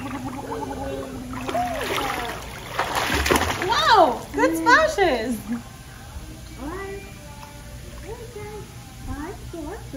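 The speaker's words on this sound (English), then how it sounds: "Good splashes." Swimming pool water splashes in bursts during a children's swim lesson, with a child and an adult talking and squealing around the sloshing.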